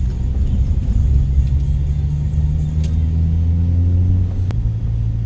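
A car engine turning over at low revs in third gear, a steady, loud, deep rumbling drone with a slight change in pitch near the end, heard from inside the cabin without talk.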